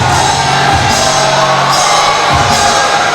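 Loud wrestling arena crowd at a Reality of Wrestling match featuring Zilla Fatu and Edge Stone, a dense continuous roar of cheering with whoops and shouts rising in bursts throughout.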